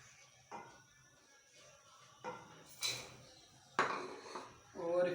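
Rice kheer is stirred in a metal pot with a spoon, producing sparse clinks and scrapes at irregular intervals, some sharp and ringing, against a quiet background.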